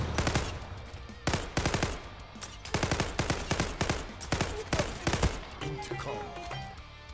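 Automatic fire from an MPT-76 rifle in the online shooter Zula comes in several loud, tight bursts of rapid shots separated by brief gaps, over a constant background of game ambience.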